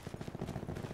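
A burst of rapid gunfire from a video game, quick repeated shots in a fast rhythm, fairly faint.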